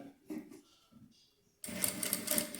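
A domestic sewing machine stitches a fabric shoulder bag. It starts after a few quiet handling sounds and then runs loud and steady to the end.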